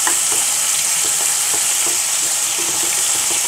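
Onion frying in a pan for a special chicken biryani, a steady close hiss of sizzling oil with light stirring clicks, no talk.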